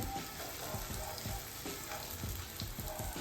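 Masala rotti frying in oil on a hot pan gives a close, steady sizzle, dense with fine crackles and small pops throughout, and no voices.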